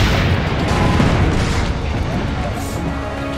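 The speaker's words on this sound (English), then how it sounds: "Load the cannon. Aim for the cannon, signore." Cannon fire in Assassin's Creed Brotherhood, a heavy low boom that rolls across the whole clip in a dense, sustained rumble of game battle noise.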